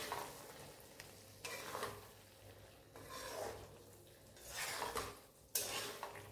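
Frozen green peas sizzle in a wok at low volume while a utensil stirs them, with several distinct scraping strokes against the pan and no talking.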